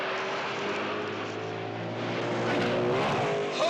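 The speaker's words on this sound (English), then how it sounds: "Just another car jump." A stunt car races in for a jump, its loud engine roaring steadily at a distance and climbing toward the end, with no voices.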